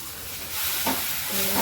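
Ground coriander, cumin and red chili powder, including Kashmiri chili, sizzle and hiss in hot oil in a pan for a soybean and potato curry. The frying is steady and close with no talk, and it swells louder partway through.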